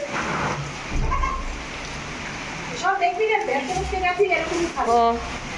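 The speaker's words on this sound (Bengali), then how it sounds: "বৃষ্টি শুরু হয়ে গেছে" Rain begins outdoors as a steady hiss of falling drops, with people talking over it.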